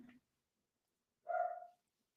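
A single dog's bark or yelp sounds once, mid-range and fairly close, after a brief moment of faint voice, then silence.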